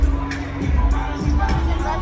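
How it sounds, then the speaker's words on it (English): A crowd murmurs in a boxing venue the day before a major women's boxing event, a low continuous babble of many voices filling the room. "Good crowd in here actually, very good crowd."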